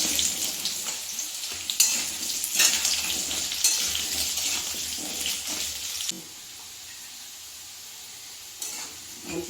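Potato pieces hit hot oil already fragrant with whole cumin seeds, giving a loud, close, steady sizzle with stirring scrapes; the hiss drops to a quieter, even fry after about six seconds.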